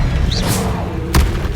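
Expelliarmus disarming spell fired in the game Hogwarts Legacy, a short whistling zip followed by a sharp bright crack over a low steady game rumble.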